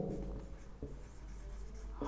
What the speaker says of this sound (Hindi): यहां पे मैं लिखता हूं